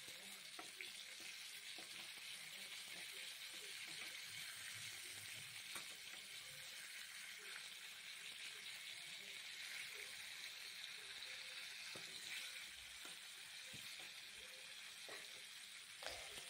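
Pointed gourd (potol) pieces frying slowly in oil over a low flame, a faint, steady sizzle and crackle with occasional soft pops throughout.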